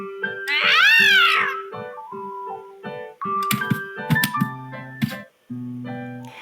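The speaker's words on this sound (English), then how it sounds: "Without warning, the cat swiped at Righteous, taking her stumbling aback." A cat in the video game Honkai Impact 3rd lets out a loud, drawn-out meow, followed by game music and chiming effects.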